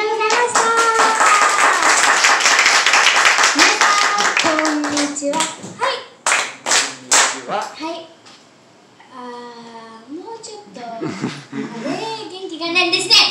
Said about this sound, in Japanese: 元気な手拍子ありがとうございます